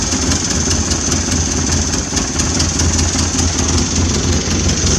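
Engine of a Sprint convertible car running steadily, a loud, even, throbbing drone held without change throughout.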